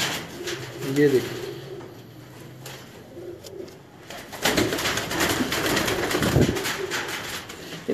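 Pigeons cooing close by, low soft coos early on, then rustling and handling noise with someone speaking briefly over it.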